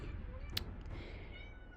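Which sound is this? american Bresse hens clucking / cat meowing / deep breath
cat meowing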